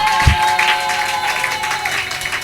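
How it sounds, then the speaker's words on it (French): A church congregation applauds the preacher's arrival with a steady wash of clapping from a crowd. It holds at an even, fairly loud level throughout, with a low thump near the start. "nous acclamons l'arrivée de l'homme de Dieu"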